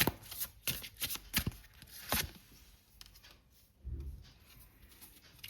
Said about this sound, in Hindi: सारे ही डेक से मैं आपके लिए आज गाइडेंस के कार्ड एक एक कार्ड निकाल रही हूँ